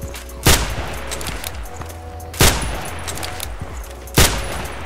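SV98 sniper rifle fired in the online shooter Contract Wars: three loud, sharp shots spaced roughly two seconds apart over a steady game background hum.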